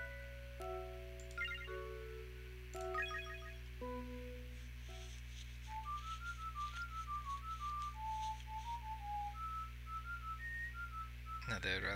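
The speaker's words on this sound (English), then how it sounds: "they would rather gossip instead of join my whistling performance" Whistling in the Nintendo DS game Magician's Quest: Mysterious Times, a steady tune of short whistled notes over a constant low background hum and game chimes.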